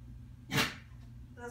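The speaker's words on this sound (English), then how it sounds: "That sneeze is a stress sneeze, but it's a good stress thing because she thinks this is all fun." A dog gives a single short, breathy sneeze, close and fairly quiet, during a training session, with faint background noise around it.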